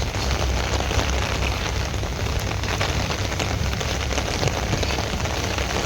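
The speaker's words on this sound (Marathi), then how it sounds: "आणि पाऊस पण एवढा आहे" Heavy rain pours steadily over a village during a flood, a dense, continuous hiss of drops on surfaces with a low rumble underneath and no voices.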